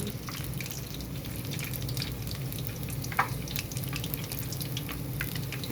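Homemade chicken sizzles steadily in hot oil, a continuous close crackle and spatter with small pops throughout and no talking.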